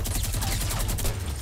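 Gunfire in the video game Fortnite: a rapid, continuous burst of automatic shots rattling without pause for about a second and a half, loud and close, with no talking.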